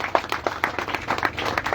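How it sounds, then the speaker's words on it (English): Brief burst of applause from an audience at a Public Health Board of Nigeria event honoring a doctor and his team, scattered hand claps at moderate loudness over a low room hum. "Would you please help me give a round of applause to Dr."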